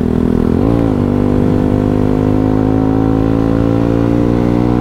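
A motorcycle engine drones loud and close while riding, revving briefly near the start before settling into a steady, even hum.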